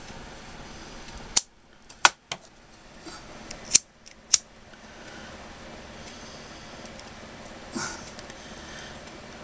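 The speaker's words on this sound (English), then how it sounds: "we're going to snip and burn" Scissors snip through macramé cord in a few sharp, close cuts, clustered in two quick pairs, then a quieter rustle follows against faint room hiss.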